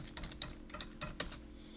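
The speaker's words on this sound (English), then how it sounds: "this is where you're going to type in your parameter" Quick bursts of typing on a computer keyboard while entering a parameter in Autodesk Inventor 2019, a handful of light clicks close by and faint, with no talk.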